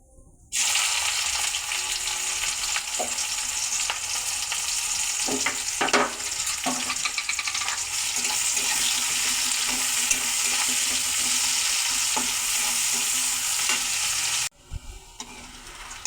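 Onions frying in hot oil for a drumstick (sajne data) stir-fry with white sesame, a loud, steady sizzle that starts abruptly and runs continuously, with a few soft stirring scrapes before it cuts off near the end.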